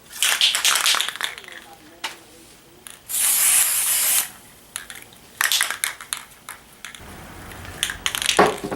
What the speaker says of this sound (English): now I'm going to spray paint it